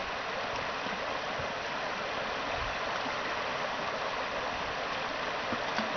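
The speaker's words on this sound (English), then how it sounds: "This is Hillaby Creek." Hillaby Creek flows in a steady, full rushing wash along a hiking trail after recent mountain snow, heard close and continuous with no voices.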